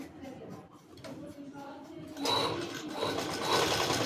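A sewing machine stitches a joint on Patiala pants. Quiet handling comes first, then the needle runs in a steady, fast whirring rattle that grows louder. Faint talk can be heard beneath it.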